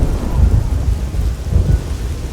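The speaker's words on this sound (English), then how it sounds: "The storm hasn't let up, and I'm completely drenched and cold." Video game thunderstorm with heavy rain, low rumbling thunder rolling twice beneath a steady loud downpour, no voices.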